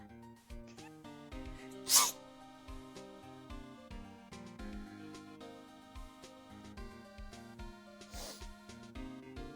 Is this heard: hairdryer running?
no